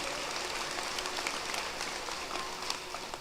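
Audience applause at a high school commencement ceremony, a broad, fairly faint and distant patter of many hands clapping steadily throughout, with no talk over it.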